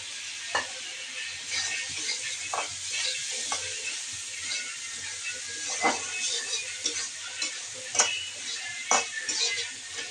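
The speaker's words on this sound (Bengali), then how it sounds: "আমি পেঁয়াজ আর কাঁচামরিচ ভেজে নিচ্ছি তেলে" Onion and green chili fry in oil in a pan, a continuous close sizzle broken by repeated scraping and clinks of a metal spatula against the pan, no voices.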